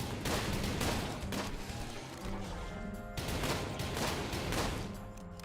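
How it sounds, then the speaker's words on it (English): Gunfire in the Grav Ship space battle video game, bursts of shots and crashing impacts in irregular clusters, loud and close, with no talk. "And you can still hear gunfire."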